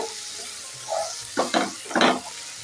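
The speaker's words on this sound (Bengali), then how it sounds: "কড়াইশুঁটিটা দিয়ে আমি ভালো করে আবার একটু নাড়াচাড়া করে" Green peas are stirred in a hot wok, giving a low sizzle broken by three short scraping, rustling bursts of stirring, close and without talk.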